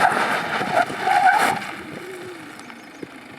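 A 2023 Tata Safari Red Dark SUV brakes hard on gravel, giving a loud broadband crunch and skid for about a second and a half that quickly fades into quieter rolling noise.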